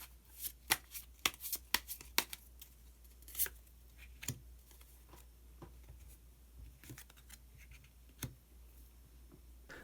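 Tarot cards being shuffled and drawn at close range, a quiet run of crisp riffling snaps and soft slides that thins into occasional isolated card flicks.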